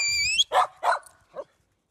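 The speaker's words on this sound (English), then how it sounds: "it doesn't work because the dogs won't shut up" Dogs give a few short barks outdoors on a nature hike, right after a high whistle tone, the barks spaced apart and fairly close.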